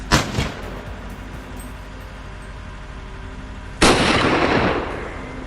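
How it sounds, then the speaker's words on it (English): A hunting rifle fires during a wild boar hunt outdoors: a sharp, loud crack at the start, then a second powerful report with a long rumbling decay a few seconds later, over a quiet background. "I immediately took position, raised my rifle. The shot rang out."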